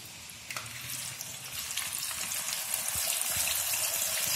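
Soaked masoor lentils frying in hot oil set beneath a strainer, a steady loud bubbling sizzle that swells slightly over the clip, with a few soft clinks and no voices.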